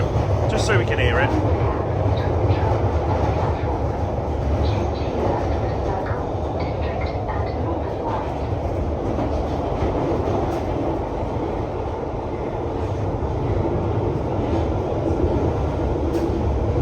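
A London Underground train runs between stations, a loud continuous rumble and roar of wheels on track with faint clatter throughout, steady and close with no break.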